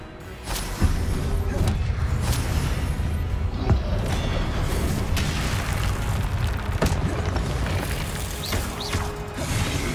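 Confringo and Incendio spell explosions in Hogwarts Legacy thump and crackle in a busy stream of booms, pops and mechanical clatter, loud and close throughout, with a few sharp bursts standing out.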